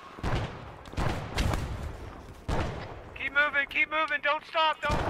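Gunfire and a grenade blast in a military shooter video game ring out as several loud, sharp broadband bursts in the first half, followed by shouted radio-style voices over the action.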